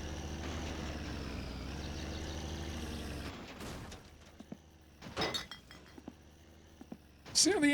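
Glass bottles clink and rattle in My Summer Car, a few sharp, loud clatters in the second half after a stretch of engine-like drone and background game noise.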